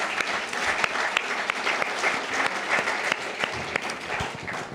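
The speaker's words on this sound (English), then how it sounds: "Big round of applause for our Lifetime Achievement Awards." A crowd at a First Nations media awards ceremony keeps clapping for Lifetime Achievement Award recipients, a full, even roar of many hands with a few sharper individual claps standing out near the front.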